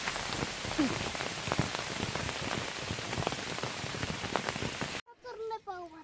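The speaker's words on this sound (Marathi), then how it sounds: "खूप जोराचा पाऊस यायला सुरुवात झाली" Heavy rain pours down in a dense, steady roar for several seconds, then cuts off abruptly as a voice starts speaking.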